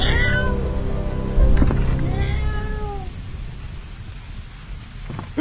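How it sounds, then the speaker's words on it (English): A cat meows in the video game Intruder, several drawn-out meows in succession, loud and close over a steady low game background hum. "Meow like a cat."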